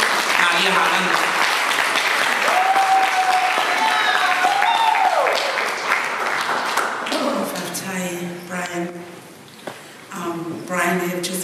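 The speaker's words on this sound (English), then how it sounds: "please, a big round of applause for the founder, CEO of Tour Pacific Inc., Niuean" A big round of applause greets the founder and CEO of Tour Pacific Inc. at a 20th-anniversary gathering in Auckland. Sustained, dense clapping with a brief vocal shout fades after about seven seconds into the founder speaking.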